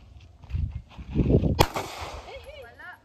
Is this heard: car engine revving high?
no